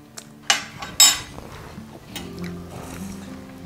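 A spoon clinks sharply against dishes a couple of times while chutney is served at a Bengali meal of mutton biryani, mutton chap and egg masala, with soft murmuring and faint background hum between the taps.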